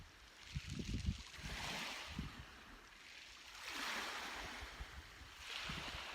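Ocean waves roll in broad, slow surges of surf, swelling and fading in a steady rhythm under gusty wind noise, with no voices present.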